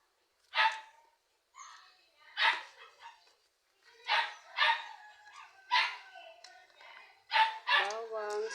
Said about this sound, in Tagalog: Napakaingay talaga nitong aking mga alagang aso.